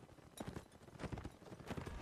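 Horse hooves in a Napoleonic Wars line battle game, a quick, quiet clip-clop rhythm of galloping steps over a low battle murmur.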